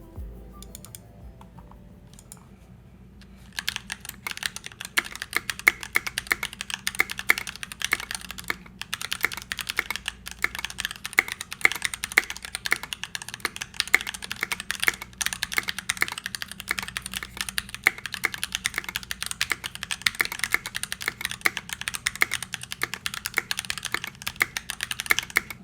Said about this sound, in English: I used some NK silk yellows which are lubed from the factory and some cherry profile keycaps